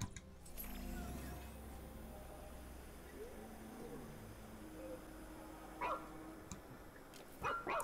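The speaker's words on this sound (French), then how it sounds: "Pourquoi t'aboies?" A companion dog barks and yips in the video game ReCore, fairly quiet beneath a low rumbling game soundscape. Several short barks come near the end, and a person talks at times.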